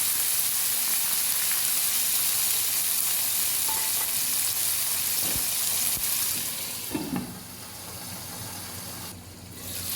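Chopped tomatoes for pudina rasam cook in a covered pan, giving a steady, close sizzle that hisses throughout and softens toward the end.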